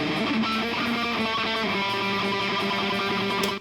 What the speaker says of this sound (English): So the right guitar sounds like this.